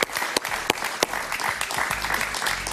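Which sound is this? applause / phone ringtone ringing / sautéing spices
applause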